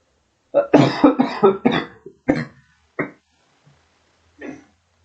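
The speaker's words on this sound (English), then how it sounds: "I have a cough that flares up every time I try to record" A close, rapid burst of several harsh coughs, followed by a couple of isolated coughs and a softer one after short pauses.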